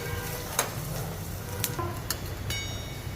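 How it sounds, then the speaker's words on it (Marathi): Onion and turmeric sautéing in a pan until golden, a steady low sizzle with occasional sharp scrapes and clinks of a spoon stirring against the pan, close and continuous. "हळद हे छान परतून घ्यायचं सोनेरी होईपर्यंत"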